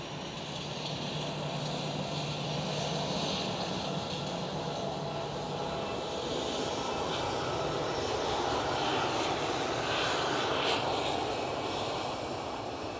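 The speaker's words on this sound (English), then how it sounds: "KLM 737 takeoff." A KLM Boeing 737 takes off at Amsterdam Schiphol, its jet engines a sustained broad roar at middle distance, steady and slowly swelling, with no talk.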